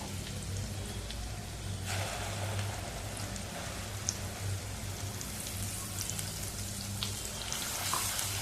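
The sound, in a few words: spice masala sautéing in oil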